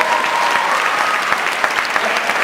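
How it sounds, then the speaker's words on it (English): A crowd at a valedictorian graduation speech applauds the families with dense, steady clapping that stays loud and continuous throughout, with no gaps. "Let's get a round of applause for the families."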